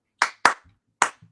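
Three sharp hand claps in an uneven rhythm, close and clear and alone, the kind that opens a 1960s girl-group song.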